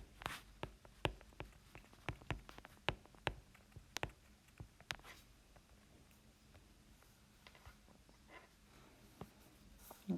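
Faint, quiet writing strokes on a board, a run of short sharp taps and scratches that are busy at first and then thin out, heard alone with no talking.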